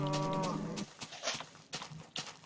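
Winged cows in a video game moo in one long, loud, tonal call at the start, followed by quieter scattered game sounds and clicks.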